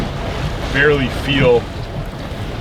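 Gusty wind buffets a small fishing boat on a rough day, roaring steadily across the microphone. Someone briefly speaks over the rushing air.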